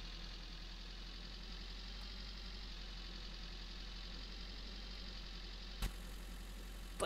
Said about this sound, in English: X to start the engine.